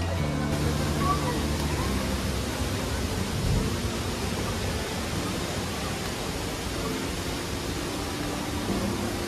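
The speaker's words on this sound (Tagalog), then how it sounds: "Ito yung Tinuyan Falls" Tinuy-an Falls in Bislig roars as a dense, unbroken wash of falling water, loud and steady throughout.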